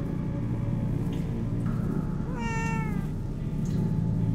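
A cat in the Minecraft Story Mode game lets out a single clear, close meow that rises and falls over a steady low background hum, with no talking.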